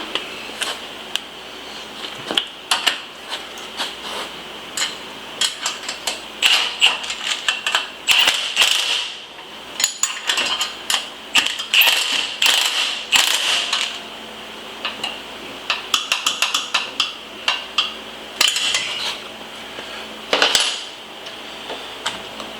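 Bursts of metallic clicking and rattling from a ratchet tightening bolts on a motorcycle switch mount on a springer bobber, quick clustered clicks with short gaps between, close by and without talking.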